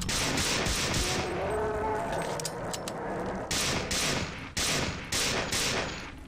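Rapid bursts of video-game gunfire, loud and close, arriving in repeated volleys with short gaps between them and almost no talk.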